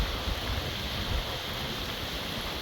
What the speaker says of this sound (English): Rolling waves, what a great sound.